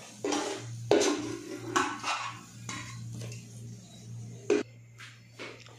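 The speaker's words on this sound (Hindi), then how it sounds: "इस गोश्त को हम बाहर निकाल लेंगे इस बर्तन से" Pieces of boiled beef are lifted out of a metal cooking pot while making nihari, giving several distinct clanks and scrapes of utensil on metal, spaced irregularly against a steady low hum.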